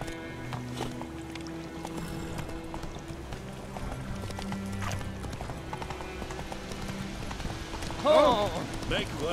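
Roach's hooves clip-clop at a steady gallop through The Witcher 3's open world, with a continuous game score and ambience running beneath and a brief louder burst near the end.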